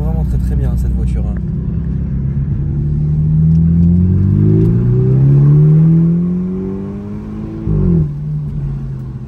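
A car engine hums and rises steadily as the vehicle accelerates through the gears, with a gearshift dip near the end and people talking over it.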